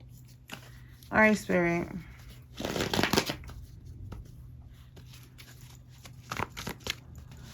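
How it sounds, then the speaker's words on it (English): Tarot cards being shuffled and pulled, papery riffles and slides in short bursts near the mic, with a person speaking briefly over the handling. "let me pull some other cards"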